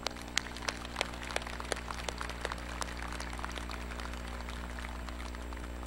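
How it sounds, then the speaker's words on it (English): Steady applause from a large audience at a commencement ceremony, a dense patter of many hands clapping with a few sharper claps standing out, fairly distant and even throughout. "we, the faculty, give you a round of applause for your accomplishments"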